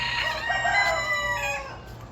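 A rooster crows at a poultry farm, a single long, loud cock-a-doodle-doo close by with no talk over it.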